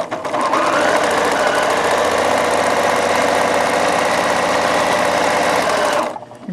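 A domestic sewing machine stitches a straight seam through fabric, running as a steady, loud, fast mechanical whir with a dense rhythmic clatter for about six seconds before stopping abruptly.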